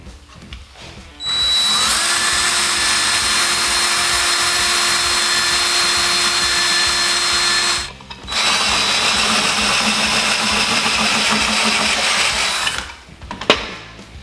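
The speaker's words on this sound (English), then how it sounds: "Now that's drilled out" A power drill bores holes in a motorcycle muffler cap for a Yamaha Maxim XJ650 cafe racer, two loud sustained whining runs broken by a brief pause, then a short clatter at the end.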